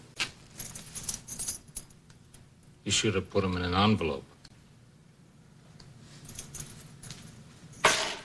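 Restaurant keys jangle and clink as they are handed over, with a burst of metallic rattling between bits of conversation and another clink near the end.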